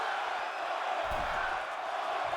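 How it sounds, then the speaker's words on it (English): A wrestling arena crowd chants and roars, a dense wall of many voices with a louder surge partway through and no clear single voice on top. "Crowd chanting one more time."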